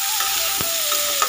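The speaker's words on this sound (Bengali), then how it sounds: "এইটা আমি একটু ভাজা করে নেব" Shrimp and mustard leaves fry in a pan with a loud, steady sizzle, broken by a few sharp scrapes of stirring, close by and with no talk.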